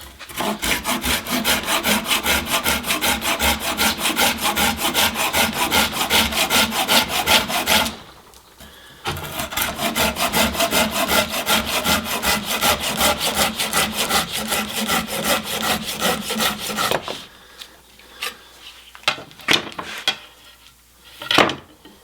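A Silky F180 folding saw cuts through wood in fast, steady push-pull strokes, loud and close, with a short pause around eight seconds and sparser scraping near the end.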